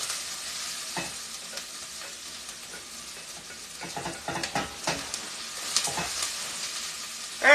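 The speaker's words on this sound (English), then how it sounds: "Alright, so we got onions, jalapeno in there. It's been cooking and it's getting a little fragrant." Onions and jalapeno frying in a pan for white chicken chili, a soft steady sizzle broken by scraping stirs and occasional utensil knocks, fairly quiet and close.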